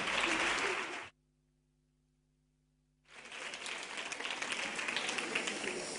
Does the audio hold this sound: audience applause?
yes